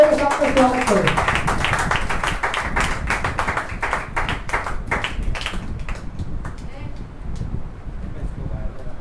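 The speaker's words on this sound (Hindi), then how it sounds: "आइए जोरदार तालियों के साथ स्वागत करें।" A church congregation claps loudly in a brisk, dense burst of applause that gradually thins and fades over several seconds, with a voice briefly heard at the start.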